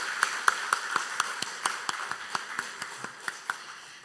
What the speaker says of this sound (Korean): 하나님께 영광과 존귀와 감사의 박수를 한번 올려드리도록 하겠습니다